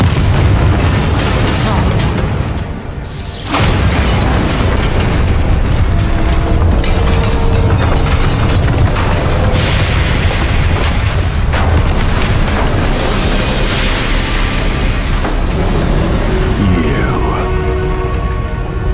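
A Bombarda blast spell goes off in Hogwarts Legacy, a heavy booming explosion over a dense, loud mix of game effects and rumbling that runs the whole time, with a short dip just before the impact.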